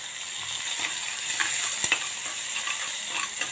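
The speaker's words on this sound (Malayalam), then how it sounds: "നന്നായിട്ട് ഇളക്കി കൊടുക്കാം" Crushed garlic and chili fry in coconut oil for a curry while being stirred, a steady close sizzle with light scraping taps of the spoon against the pan.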